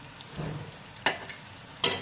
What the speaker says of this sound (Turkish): böyle kızartıyoruz